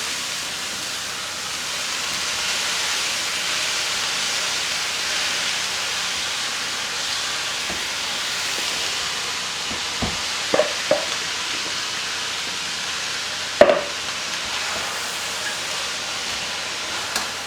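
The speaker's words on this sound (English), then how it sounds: "I make some room to add my fresh veggies so that they get cooked, and toss this stuff in" Fresh vegetables and zucchini noodles sizzle steadily in a hot pan, a continuous hiss with a few sharp clanks and taps of a utensil near the end.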